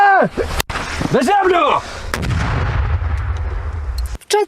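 Shouting voices, then a sharp, loud grenade blast followed by a lingering low rumble, and another abrupt bang at the end, during a police combat training exercise.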